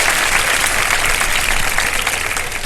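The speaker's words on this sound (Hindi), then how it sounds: "एक दफा जरा फिर भरपूर तालियां बजा दे" Loud, sustained applause from a studio audience on a Ramadan game show, dense clapping filling the whole stretch without a break.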